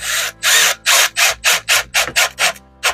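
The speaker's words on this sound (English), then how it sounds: "Now I do have the torque turned down on this drill." A power drill with its torque turned down whirs in a rapid series of short bursts, about nine quick pulses with brief gaps, loud and close, driving screws into plastic.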